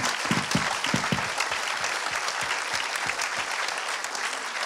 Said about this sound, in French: Vous pouvez les applaudir, vraiment.